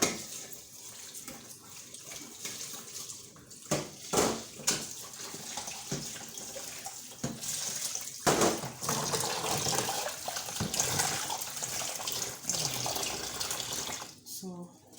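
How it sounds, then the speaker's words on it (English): Running water splashes and gushes from a tap as paraffin stove tops are rinsed, with bursts of louder pouring and clattering close by. "I will rinse my stove tops with clean water."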